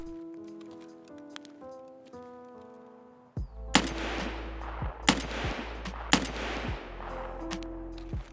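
Gunfire in the Escape From Tarkov video game: after a quiet stretch of tonal game sounds, a few loud, sharp shots ring out in separate bursts, each with a ringing tail.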